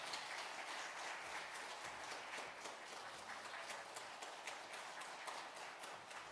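A church congregation claps in welcome during a Sunday morning service, giving a steady wash of many hands that lasts the whole stretch, faint and somewhat distant, with no voices over it.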